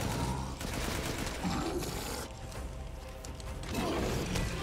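Artillery fire in the Resident Evil Village video game comes as bursts of booming, crackling blasts and mechanical clatter, loud and dense, rising and falling in waves across the scene.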